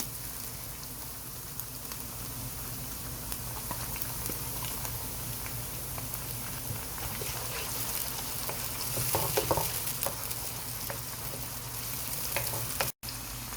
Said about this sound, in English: we're going to go ahead and add this shrimp so the shrimp is fried nicely along with the onion